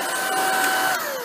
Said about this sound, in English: now you have a handheld vacuum